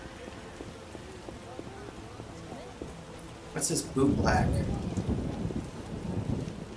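Rain pours steadily in the video game The Witcher, with thunder rolling in partway through and building into a loud, heavy rumble that carries to the end, while a character speaks a short line over the storm.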